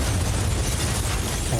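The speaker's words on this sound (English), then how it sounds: "Is that a bomb? Or two?" A bomb blast in a period TV drama, heard as a single sustained, loud, low rumbling boom that fills the whole short moment with no voices.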